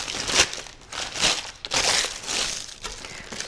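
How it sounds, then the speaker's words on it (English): Parchment paper is crumpled by hand, a sequence of crisp crinkling bursts about every half second to second, close and fairly loud, with softer rustling between them. "Now I am crumbling up my parchment paper"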